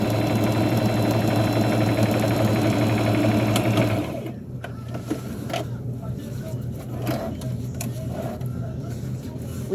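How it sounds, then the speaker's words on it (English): A sewing machine stitches fabric for a burial gown, running steadily and loud for about four seconds, then stopping and leaving faint handling noises and quiet rustles. "We are going to go to the other side here and sew along here and down this part."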